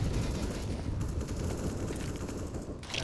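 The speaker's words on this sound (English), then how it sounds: "a ton of gunfire is going down" Dense, continuous gunfire rattles through a competitive first-person shooter match, with loud overlapping shots and explosions forming a thick roar throughout.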